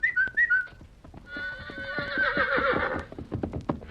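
Horse whinnies twice, then a bright sustained whistle rises over trotting hoofbeats that clip-clop close by, staged as a scene in a radio drama about a wild horse.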